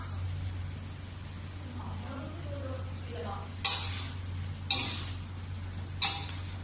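Onion flowers and egg stir-frying in a pan, a steady broad sizzle with a low hum beneath, broken by three sharp scraping clacks of a utensil against the pan.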